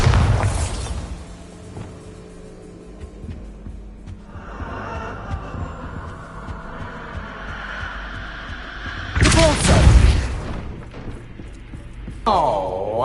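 Bombarda explosion spell going off in a Harry Potter video game, a loud booming burst with rumbling low-end thuds that fade and then flare again near the end.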